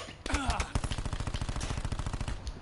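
Rapid automatic gunfire in Call of Duty: Black Ops 4 rattles in a steady fast burst for over two seconds, loud and close, with a few sharper shots at the start.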